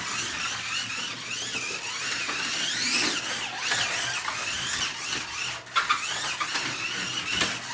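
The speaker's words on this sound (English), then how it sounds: "You gotta admit, this thing's fast on this track at the tight corners." A slot car speeds around a home track, its small motor whining and rising and falling in pitch through the tight corners, with a few sharp clicks near the end.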